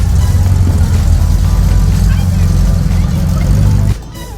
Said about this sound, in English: that is quite the Stinger exhaust out the back there. I mean, listen to this car.